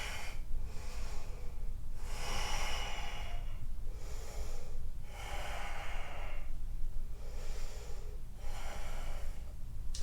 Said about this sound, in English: 2 nice deep breaths.